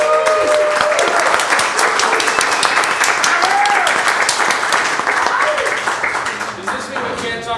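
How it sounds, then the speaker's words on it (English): A live podcast audience gives a dense, sustained round of loud applause for Drammers, steady for several seconds before tapering off, with a few voices briefly heard in the crowd. "please give a really loud round of applause for Drammers,"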